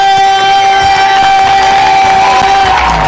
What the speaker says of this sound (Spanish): quiero que se den un buen aplauso, pero para ustedes mismos, hermano, y que sea más fuerte el aplauso para mi hermano